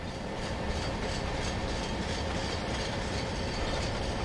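Continuous rumbling clatter of GY train wagons rolling over rails in the video game Trainz 2022, dense and steady throughout, with no voices.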